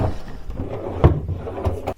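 Wooden drawers of a bedside chest in a Bournemouth hotel room slide and knock as they are opened, giving a few soft thuds and one sharper bump close by, with no talking.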